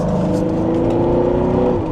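A Porsche 928 with 200,000 miles on it revs hard under acceleration, its engine a loud, steady, close-up drone of layered tones with no voices over it.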